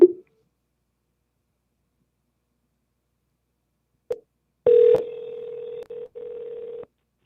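Ringing on an outgoing telephone call: a short click, then after a pause a steady electronic tone that runs about two seconds with a brief dip, heard alone and fairly clearly.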